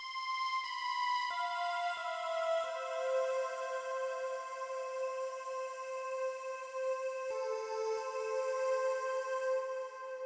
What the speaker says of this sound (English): final thing we have down here sound-wise is what I call the air string here.